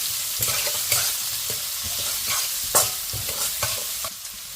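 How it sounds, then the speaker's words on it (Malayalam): Garlic and green chilies sauté with onion and ginger in a hot pan, stirred briskly with frequent scraping strokes over a loud, continuous sizzle. "വെളുത്തുള്ളി കൂടി അങ്ങോട്ട് ഇടുവാണ് പിന്നെ പച്ചമുളകും കൂടെ നമുക്കതൊന്ന് വഴച്ചെടുക്കാം"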